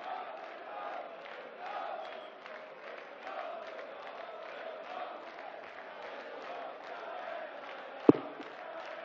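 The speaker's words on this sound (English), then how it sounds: "And the crowd starting to find their voices again" Darts crowd at a quarter final in the German Darts Open, a steady low murmur of many voices swelling slightly, with a single sharp knock near the end.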